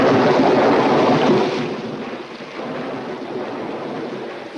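Thunder with lightning, a deep sustained rumble, rolls loud and broad, then eases into a steadier, lower wash of noise, like thunder fading into rain or wind.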